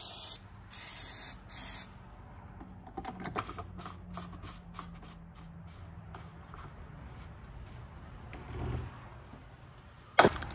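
Several short hissing bursts of aerosol lubricant sprayed onto parts of a BMW E46 under repair, with shuffling, handling noise and a sharp clack near the end.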